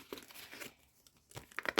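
Paper surprise packet being torn open along its perforation, with a few short crinkling rips, then a pause and a sharper burst of tearing and rustling close up, no talk.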